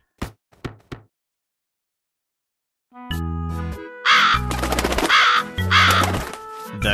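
Cartoon crow cawing in a Pinkfong Aesop's fable story, three quick caws at the start followed by silence, then bright musical tones and sung or voiced phrases rising over a bouncy backing.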